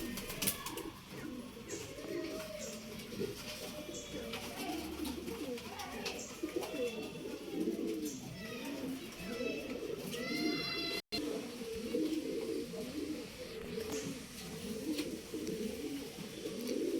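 Bazai pigeons coo continuously in a dense, overlapping chorus at close range, steady and fairly loud throughout, with some faint chirps above.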